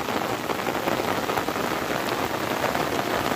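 Heavy monsoon rain pours down on a surface, a loud, dense, unbroken hiss of drops close by with no voices.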